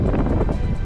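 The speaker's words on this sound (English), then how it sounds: "It is windy up here" Gusty wind on an exposed mountain cliffside trail in the Berkshires, buffeting the microphone with low rumbling noise, close and continuous.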